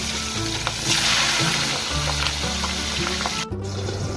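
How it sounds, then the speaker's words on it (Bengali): Pabda fish fry in hot oil with a loud, dense, continuous sizzle, close up, with faint clinks in the background and no talking. "ওদিকে মাছ ভাজা হচ্ছে"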